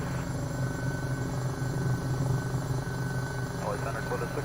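A helicopter engine and rotor drone loud and continuous inside the Microsoft Flight Simulator game during a tour over Los Angeles, while someone speaks over the steady hum.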